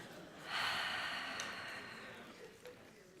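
A conference audience breathing out together, a broad rushing exhale rising suddenly, then slowly fading over a couple of seconds in a large room.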